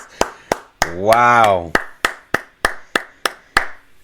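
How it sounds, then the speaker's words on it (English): Steady, evenly spaced hand claps about three per second, close and crisp, with a person's brief exclaimed word partway through the audience clapping. "Let's clap it up, y'all."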